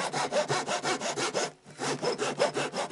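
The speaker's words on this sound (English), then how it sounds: "I'm gonna saw it." A hand saw cuts through a wooden turned dodecahedron box, with steady back-and-forth rasping strokes at close range, a brief pause midway before the rhythmic sawing resumes.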